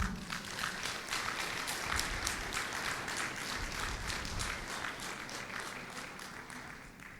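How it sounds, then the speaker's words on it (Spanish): An audience at a religious event claps steadily for several seconds, a dense, even patter of many hands that holds its level and tapers slightly near the end. "Démosle un aplauso."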